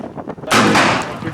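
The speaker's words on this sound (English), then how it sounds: "the actual field exercise with chemical munitions" A single sharp boom of a launcher firing chemical munitions at a police academy field exercise, loud and close, following a brief quiet lead-in, with a short echoing tail.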